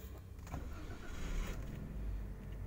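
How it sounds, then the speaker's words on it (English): A car engine cranks and catches, then settles into a steady, fairly loud idle with a continuous low rumble and no voices. "you can hear the car engine sounds again"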